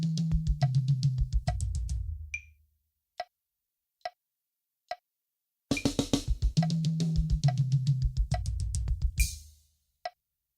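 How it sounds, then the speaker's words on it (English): A drum kit pattern played in sixteenth-note triplets: a dense roll of tom and snare hits over kick, followed by sparse clicks like sticks or hi-hat, then the roll repeats, close and dry with no voices. "So now playing it in 16-note triplets is going to sound something like this."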